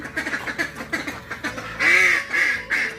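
Ducks just released from their shed quack in a close, lively burst of repeated calls, a rapid chatter of quacks rising into louder, drawn-out honking quacks toward the end.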